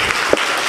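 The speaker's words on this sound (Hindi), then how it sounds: "एक बार जोरदार तालियां इस बच्चे के लिए।" A crowd at a Hindi comic poetry gathering breaks into loud, dense applause, a brief continuous burst heard up close.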